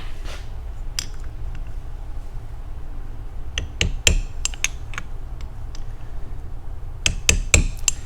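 A hammer strikes a 14mm deep socket to seat a part in a 4AG distributor housing resting on wood in a vise, giving a few sharp metallic taps in small clusters over a low background hum.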